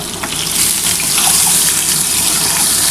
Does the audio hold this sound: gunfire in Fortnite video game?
no